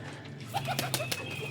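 Pipla and Teddy breed pigeons coo softly in short, separate calls over a faint steady hum, with a brief flutter of wings among them.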